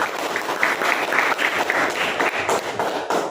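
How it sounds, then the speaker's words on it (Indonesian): Students in a classroom lesson clap together for a few seconds, a close, bright patter of hands that stays fairly even before thinning out at the end. "Berikan tepuk tangan untuk dia."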